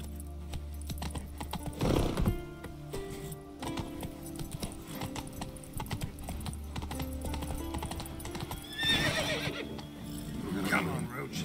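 Roach, the horse in The Witcher 3, gallops with rapid clip-clop hoofbeats and lets out loud neighs, over game music, with a voice urging it on.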